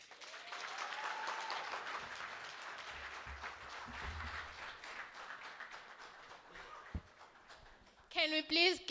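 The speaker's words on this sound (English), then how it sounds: "Can we please give him another thunderous round of applause?" Applause rises from an audience at a World Population Day commemoration, a dense, fairly faint wash of clapping that fades over several seconds before a few louder, close sounds near the end.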